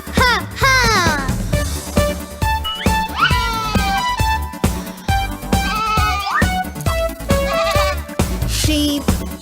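Cartoon sheep bleating in a children's nursery song, several wavering, sliding bleats set over a bouncy musical backing with a steady beat.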